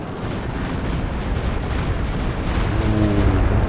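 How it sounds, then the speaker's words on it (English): Stuka dive bomber strike in Company of Heroes 2, a dense, loud continuous rumble of bombs and artillery-like blasts filling the whole stretch, swelling slightly toward the end with a droning engine tone emerging underneath. "Ooh, Stuka."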